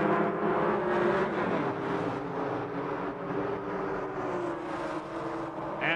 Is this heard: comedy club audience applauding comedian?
no